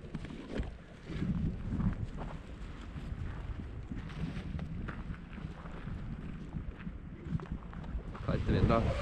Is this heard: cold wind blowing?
yes